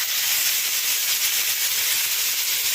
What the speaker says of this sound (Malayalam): എണ്ണ നന്നായി ചൂടായതിന് ശേഷം മാത്രം മീൻ വറക്കാനായിട്ട് എടുത്തിട്ട് കൊടുക്കുക